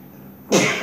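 A single short, breathy sneeze bursts out halfway through after near silence, close and fairly loud, during a French conversation about Passover.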